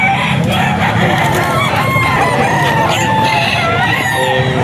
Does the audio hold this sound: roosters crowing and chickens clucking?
yes